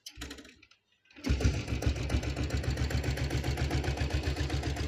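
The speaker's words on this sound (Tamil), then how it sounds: "வண்டியை ஒரு தடவை ஸ்டார்ட் பண்ணி காட்டுறேன் பாருங்கள்." Royal Enfield diesel Bullet motorcycle engine, a vintage bike, cranks briefly, falls quiet, then catches and settles into a loud, steady, rapid thumping idle close by.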